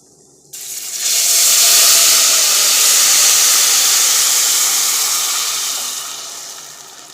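A loud, steady sizzle and hiss starts suddenly and continues for several seconds, then slowly softens, as rice toasts in a hot pan.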